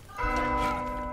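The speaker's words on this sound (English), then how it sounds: "I'm ringing the bell no matter what." A single bell strike rings out in a video game, a bright metallic clang with a sustained humming tone that fades over about a second.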